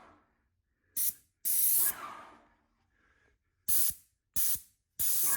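Paint spray gun misting a new front door, sounding in five sharp hissing bursts of varying length with short quiet gaps between them, close and loud.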